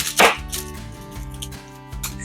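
Half an onion is rubbed against a grater for mac and cheese, giving several rough, scratchy strokes, the first one loudest, over a low steady tonal hum.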